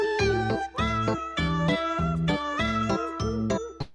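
Repeated cat meows from a played recording, about six drawn-out tonal cries in a steady rhythm, close and loud with no talking.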